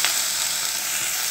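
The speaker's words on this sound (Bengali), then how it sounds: "কড়াইয়ে আমাদের তেল গরম হয়ে গেছে খুব বন্ধুরা, আমরা চিংড়ি মাছটা দিয়ে দিচ্ছি।" Prawns hit very hot oil in a wok, giving a loud, dense, continuous sizzle that stays close and even throughout, with no voices.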